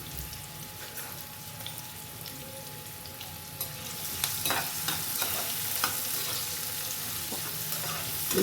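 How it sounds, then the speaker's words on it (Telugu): Sliced onions and green chillies frying in a pan while being stirred, a soft continuous sizzle with scraping strokes that grow busier and louder toward the end, no talking. "ఉల్లిపాయలు దోరగా వేయించుకోవాలి."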